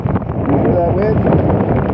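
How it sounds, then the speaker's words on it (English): Strong, cold wind blowing in off Lake Huron during a winter snowstorm at night, a steady loud roar buffeting the microphone for the full two seconds, with a voice faintly present underneath. "You hear that wind?"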